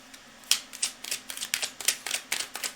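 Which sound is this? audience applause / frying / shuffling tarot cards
shuffling tarot cards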